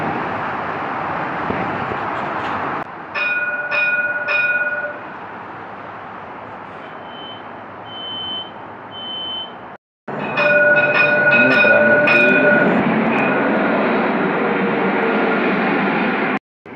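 A tram pulling into a station stop, a loud rumbling rolling roar with high ringing tonal squeals and whines from the wheels or motors, fading briefly then returning louder, heard up close with no talking.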